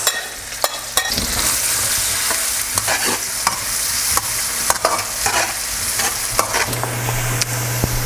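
Aromatics stir-fried in a wok for shrimp and rice noodles, a steady loud sizzle with frequent scraping and clanking stir strokes throughout, no voices.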